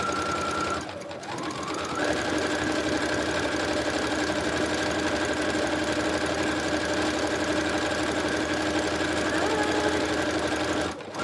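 A sewing machine runs a straight line of stitching on dress fabric, a steady rapid mechanical whir with a constant buzzing tone after a brief start-up pause, close and alone.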